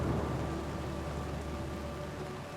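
Dense, steady rain roars across the whole clip, a continuous broadband hiss with a low rumble beneath, loud and unbroken.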